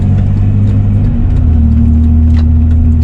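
A car with an automatic transmission pulls away on a freeway on-ramp, its engine rumbling loud and close with a steady drone that shifts pitch slightly as the gears change.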